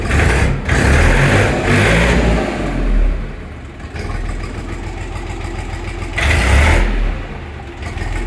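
A Kentavr 244SX diesel mini tractor runs after starting, its loud, close engine chugging at idle with several surges of revving.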